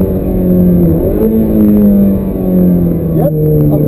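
Audi R8 and Ferrari F430 sports cars lapping a wet race track in the rain, engines droning loudly and steadily with rising and falling pitch, while people talk over the noise inside the car.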